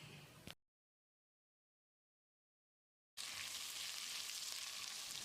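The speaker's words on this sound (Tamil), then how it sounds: "இது எல்லாத்தையும் 1 நிமிஷம் எண்ணெயிலேயே நல்லா வதக்கி விடணும்." Green peas and capsicum sauté in oil in a pan, giving a brief sizzle, then a gap of silence, then a steady hiss of frying that continues to the end.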